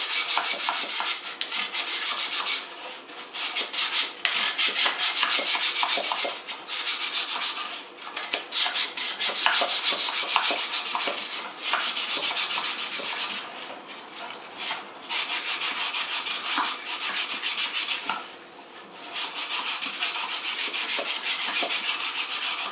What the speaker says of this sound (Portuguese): se vocês dobrarem a lixa, ó, ao meio, a gente consegue fazer com que no fundo ela faça o cantinho